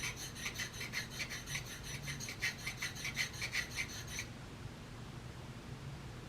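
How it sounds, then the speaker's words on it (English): A blade is sharpened with a rapid, rhythmic rasping of file strokes, about a dozen scrapes in quick succession. The strokes stop partway through and leave only faint background noise. "that's the sound of sharpening"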